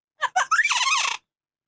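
A pet parrot named Sammy gives a loud, scream-like call imitating a goat: two short squawks and then a longer wavering shriek lasting about a second, close to the mic, followed by silence.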